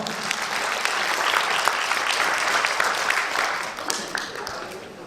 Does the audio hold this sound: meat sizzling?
no